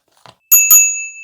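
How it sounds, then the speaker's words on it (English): Small bicycle bell on a foldable dual-motor Meelod M7 e-bike, two bright rings in quick succession after a faint tap, each ring decaying into a clear sustained metallic tone, loud and close. "A little bell to annoy people, to tell people that you're on their left on the trails."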